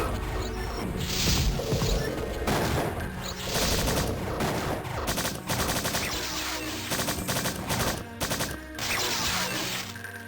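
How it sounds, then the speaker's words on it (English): Rapid bursts of gunfire against guardians in the Strife: Quest for the Sigil mines, loud and near, overlapping with crashing impacts and metallic clanks throughout. "And now let's start firing, because there are guardians here."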